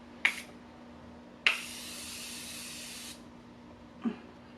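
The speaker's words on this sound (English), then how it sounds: "And then I go in with setting spray." Three hissing sprays from a Morphe makeup setting spray pump bottle: a short burst, then a longer sustained spritz of about two seconds, then a brief final puff, close up.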